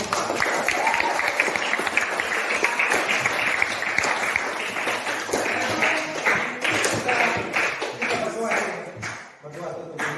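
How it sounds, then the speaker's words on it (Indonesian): Applause from a class or school group after a call to clap, dense and steady with talk mixed in, fading out near the end. "Sekali lagi tepuk tangan yang mulia."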